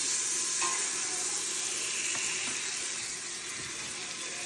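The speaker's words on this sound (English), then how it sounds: "You're going to add about 2 tablespoons of butter, y'all, to the bottom of that pan." Two tablespoons of butter sizzle in the bottom of a hot pan with a steady, bright hiss that carries evenly throughout, close and fairly loud, with faint clicks and no talking.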